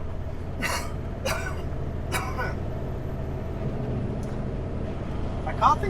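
A person coughs and clears their throat several times in short bursts early on, over the steady low rumble of a vehicle driving through a mountain pass, with brief talk in between.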